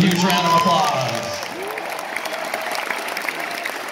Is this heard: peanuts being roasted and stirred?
no